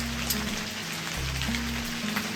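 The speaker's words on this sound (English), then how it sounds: "It started raining." Steady rain falling outdoors on an autumn day in Quebec, a dense even patter with a low droning hum beneath it and no voices.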